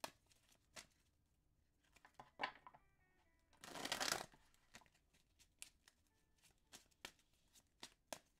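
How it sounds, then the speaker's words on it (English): A deck of cards is shuffled close by in a quiet room, with scattered soft clicks and riffles and then one loud, dense burst of a riffle shuffle. "I'm just gonna start shuffling the cards in the meantime."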